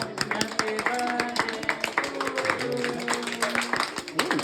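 People clap along after a birthday song at a family celebration, sharp, uneven hand claps that keep going, mixed with voices talking and singing.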